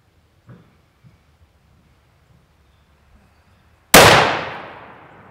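A rifle fires once during zeroing at 50 yards on an outdoor hunt. It gives a single loud, close report with a long fading tail, after a few faint taps.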